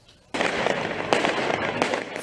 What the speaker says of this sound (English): Fireworks turned into weapons as protesters launched them at riot police and buildings across France